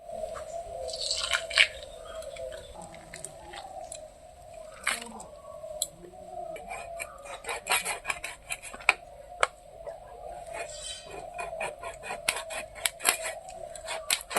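A large 2.5 kg pangasius fish being cut with a knife, with soft squishy slices and sharp scraping clicks scattered irregularly over a steady background hum.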